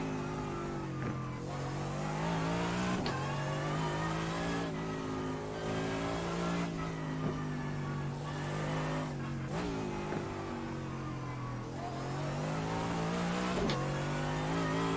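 Race car engine in iRacing at the Belle Isle circuit, droning steadily at high revs with repeated dips and climbs through gear changes and corners, loud and continuous with no talk.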